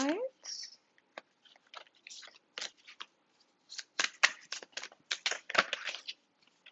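Tarot cards are shuffled and handled in a quiet room, giving short papery riffles and soft flicks in irregular bursts, with a brief voice near the start.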